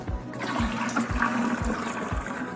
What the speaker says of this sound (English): I'm going to add that to the vase.